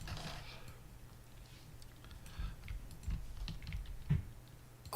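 Computer keyboard typing picked up by a microphone mounted just above it, with soft scattered keystrokes and a few louder clicks over a low background hum, no talking.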